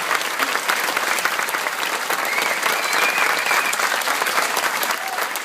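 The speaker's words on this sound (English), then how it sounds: "I'd like to do an amazing round of applause for the staff that work here." Sustained applause from an audience honouring the staff of a community cooking centre, steady and moderately loud, a crowded roar of claps with faint voices mixed in.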